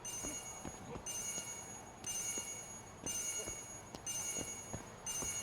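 An alarm rings in a video game, a repeating electronic tone sounding in steady bursts about once a second over a low, busy background.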